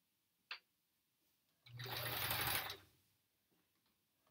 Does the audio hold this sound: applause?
no